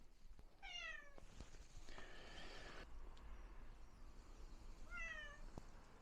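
A cat meows twice, a few seconds apart, each a short, clear cry heard close against a steady low background hum.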